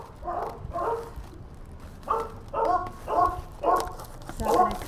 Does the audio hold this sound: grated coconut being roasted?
no